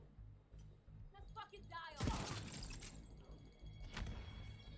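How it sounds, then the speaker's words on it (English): A frag grenade in The Division 2, thrown and then bursting in a sharp, loud crash whose rumble decays over the next second, followed by a smaller thud amid quieter game sounds. "Throwing the frag."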